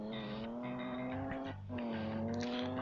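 A Tofaş car in a drift simulator video game revs hard as it accelerates, its engine note climbing steadily with a brief dip as it shifts before surging again, loud and close with no voices.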